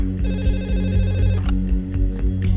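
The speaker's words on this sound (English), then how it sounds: "Across town, a late-night phone call wakes Dr. Bhandari" A telephone rings late at night in a repeating electronic ringtone pattern, loud and steady, with a low rhythmic musical pulse beneath it and no voices.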